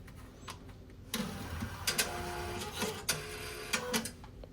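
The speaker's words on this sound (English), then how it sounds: "slide it into the printer until it grabs the paper and gives you a test print receipt" A Nautilus Hyosung ATM receipt printer grabs and feeds a roll of paper, then prints a test receipt: a steady mechanical whir broken by repeated sharp clicks and short motor bursts, close and alone.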